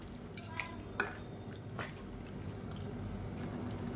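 Mutton sautéing with salt in a pan while being stirred for a Tamil mutton kulambu, with a few clinks and scrapes of the spoon over a steady low sizzle.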